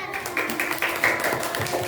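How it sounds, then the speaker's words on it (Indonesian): Classroom applause from students clapping their hands during a lesson, a brief burst of steady, dense clapping lasting a couple of seconds with some voices mixed in. "tepuk tangan."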